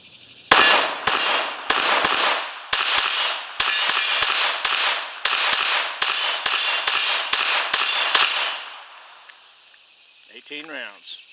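A Glock 44 .22LR pistol fires from an 18-round ProMag at a range. Fifteen sharp, close shots come in a quick, slightly uneven string, then ringing fades and a voice briefly speaks.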